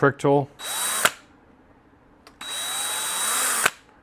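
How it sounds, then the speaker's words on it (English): A power drill with dull bits whines in two bursts, rising in pitch as it spins up, with a brief voice just before the first run. "So we'll just start drilling."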